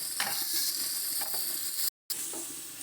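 Prawns fry in a pan with a constant soft sizzle and occasional light scrapes of a stirring utensil, broken by a brief moment of silence, no voices.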